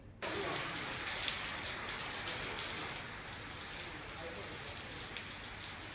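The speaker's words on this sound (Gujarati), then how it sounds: "1 કલાકથી પડી રહેલા વરસાદથી રોડ પર પાણી વહેતા થયા" Steady rain pours in Gujarat, sending water running along a road, a dense even hiss of drops on surfaces that stays constant throughout, with no voices over it.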